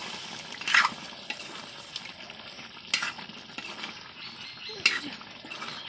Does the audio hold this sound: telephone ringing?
no